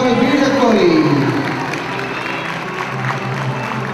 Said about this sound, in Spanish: Fuerte el aplauso para el Bearded